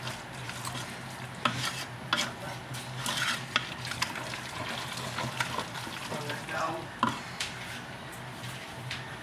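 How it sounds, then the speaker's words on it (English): A spoon churns through a pot of mac and cheese with soft, wet scraping strokes and occasional sharper knocks against the side, close and moderately quiet. "Make sure you mix it up real well"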